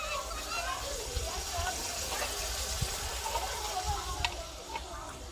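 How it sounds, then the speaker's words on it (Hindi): Water poured over pounded green chillies and other ingredients to wash them in a large home kitchen cooking session, a soft steady splashing and trickling close by, with faint background voices. "इसमें थोड़ा सा पानी डाल के अच्छी तरह ये साफ़ हो जाए।"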